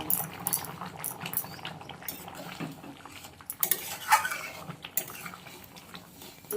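A thin vegetable curry with a pinch of added sugar bubbles in a pot, a soft steady boil broken by occasional clinks and scrapes of a utensil against the metal.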